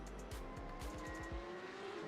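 Race car in a racing video game with its front tires locking up under hard braking, a run of short tire squeals and skids over a steady engine drone, close and fairly loud, with no talk.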